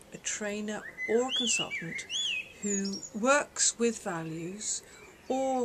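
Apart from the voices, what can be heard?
blackbird singing in the background on a patio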